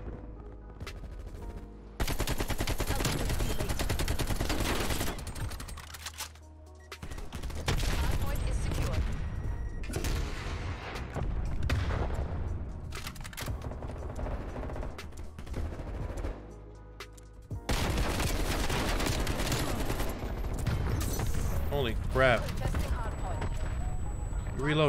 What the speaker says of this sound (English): There's so many explosions going on.